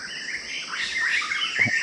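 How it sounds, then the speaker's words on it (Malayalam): Birds chirp and tweet nearby in quick overlapping calls, a bright busy chorus filling the short moment, in forest beside farmland near a remote tribal settlement. "ഒരുപാട് കിളികളൊക്കെ ഇങ്ങനെ ശബ്ദം ഉണ്ടാക്കുന്നുണ്ട് കേട്ടോ"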